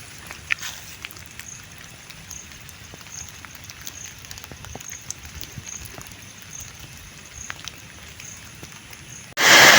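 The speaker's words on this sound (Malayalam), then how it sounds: "ഞങ്ങളെ ഇതിൻ്റെ മുകളിൽ എത്തിയത് മഴ വന്നു കേട്ടോ പെരും മഴ പെരും മഴ" Steady patter of heavy rain falling on surfaces on a hilltop beside a large banyan tree, with scattered louder drops and a sudden loud burst at the very end.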